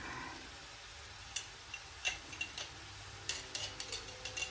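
Hamburger and garlic stirred in a pan with a spoon, faint sizzling underneath and scattered soft scraping clicks that come more often toward the end.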